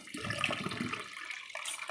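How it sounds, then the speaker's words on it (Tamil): Tender coconut water being poured into a container in a home kitchen, a steady liquid splashing and trickling stream that lasts throughout, fairly close and moderately loud. "இது தண்ணியெல்லாம் இதில் நம்ம ஊற்றிடலாம்."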